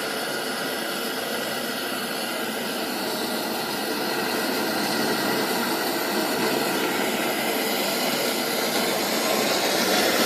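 A 1920s Coleman No. 2 camp stove roars in its hot air blast, a loud, steady, broadband rush like a jet that builds slightly in strength and continues alone without pause.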